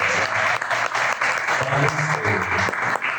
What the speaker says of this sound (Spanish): Les damos un aplauso a la gente del museo.